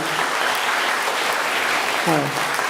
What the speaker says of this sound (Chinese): 咱搁一遍鼓掌来